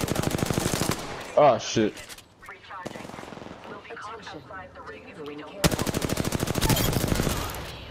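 Rapid automatic gunfire bursts in the shooter game Apex Legends, opening loud and returning near the end, separated by a stretch where players talk and curse over the action.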